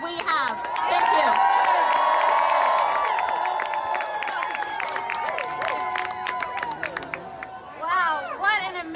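A large crowd at a political rally on the environment cheers, whoops and claps loudly, the roar swelling early then easing into scattered shouts and whistles, with a voice speaking through the noise.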